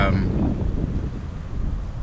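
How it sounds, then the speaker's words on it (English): Steady wind buffeting the microphone, a low rumbling roar with gusty surges that continues throughout. "it's fucking so windy"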